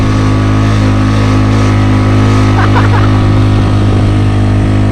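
A Honda Click scooter engine drones loudly and steadily at high speed, a sustained close engine hum with a strong low tone and rushing wind throughout, a brief voice cutting in midway.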